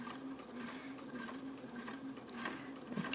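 A sewing machine sewing quilting stitches on a plain quilt block, a steady, quiet motor hum with a continuous rapid needle patter throughout, close by and without speech.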